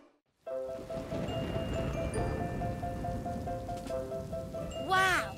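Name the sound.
heavy rain falling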